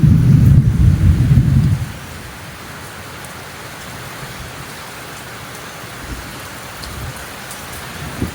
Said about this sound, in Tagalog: Kasi maulan nga